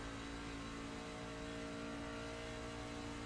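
Race truck engine in a sim racing game heard from the in-car view, a steady loud drone held at high revs throughout the short stretch, no talking.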